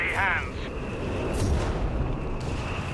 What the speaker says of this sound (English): So much artillery though